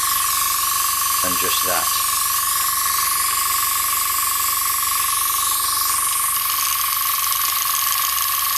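Steady hiss of air from an Iwata Sprint Jet compressor flowing through an airbrush, loud and continuous throughout, with a constant tone, a few brief clicks near the start and a short spoken phrase over it.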